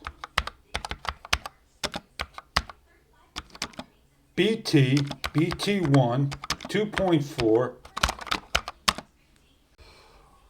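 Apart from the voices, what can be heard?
typing on mechanical keyboard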